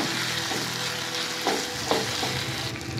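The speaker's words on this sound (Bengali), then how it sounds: "আমরা ভালো করে এটিকে কষিয়ে নেব যাতে আদা রসুন বাটার কাঁচা গন্ধটি চলে যায়" Ginger-garlic paste and tomato masala sizzle steadily in a hot pan, with a couple of louder scraping stirs cutting through the continuous close frying hiss.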